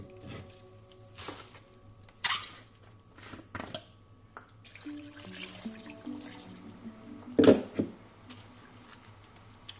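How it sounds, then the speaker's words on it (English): Water is added to a blender with ingredients for Nigerian bitter leaf soup, giving scattered pours, splashes and drips in a quiet kitchen, with one louder splash late on. "So I'm going to add water to blend it."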